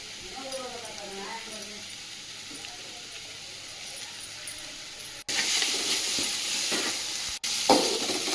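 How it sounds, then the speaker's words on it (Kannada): Carrot and beetroot frying in a pan, a soft hiss under someone talking at first, then a louder sizzle with stirring scrapes after the vegetables go in. "ಚೆನ್ನಾಗಿ ಫ್ರೈ ಮಾಡಿ. ಕ್ಯಾರೆಟ್ ಹಾಕೊಳ್ಳಿ, ಮಿಕ್ಸ್ ಕ್ಯಾರೆಟ್, ಬೀಟ್ರೂಟ್ ಹಾಕೊಳ್ಳಿ"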